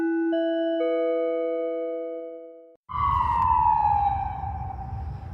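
An emergency vehicle siren sounds alone, first a steady multi-tone electronic wail, then after a brief gap a louder sweeping tone that slides downward over a rumbling engine.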